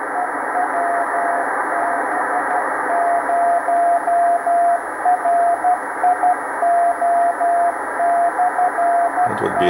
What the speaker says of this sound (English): The two tones here are making it harder to actually ID the Morse code.